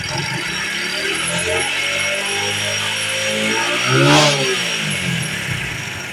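A motorbike engine revs up and back down once near the middle while a headlight bulb is tested for fusing, rising in pitch and then falling over a steady idle, with no talk.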